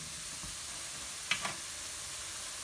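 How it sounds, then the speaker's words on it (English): Onions and garlic browning in a pan give a steady, faint broadband sizzle throughout, with one brief louder crackle or stir near the middle. "once the onions and garlic start to brown up like that, you gotta throw in the celery."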